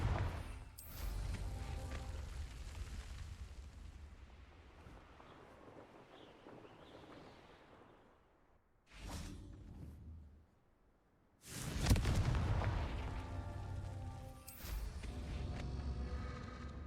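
Spell explosions from the Confringo spell burst in the video game Hogwarts Legacy, with loud booming blasts at the start, a short burst near the middle and another heavy boom followed by rumbling debris, under a windy, hissing game backdrop.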